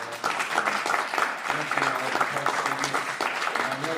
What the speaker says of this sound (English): How about one more round of applause for our panelists?